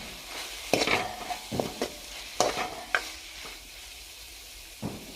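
Drumstick flower curry is stirred in a pan, giving a few scraping and rustling bursts with a soft sizzle underneath, spaced irregularly and close by.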